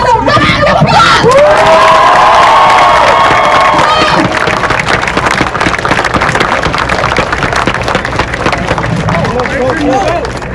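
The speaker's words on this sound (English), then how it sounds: "Young people, give yourself a round of applause." At a Black Lives Matter protest, a large outdoor crowd claps, cheers and shouts loudly and continuously, with high whoops and screams rising above the dense applause.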